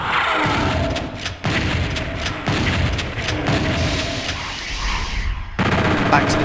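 Chaingun fire in PlayStation Doom: loud, rapid bursts of repeated booming shots broken by brief pauses, with no talking over it.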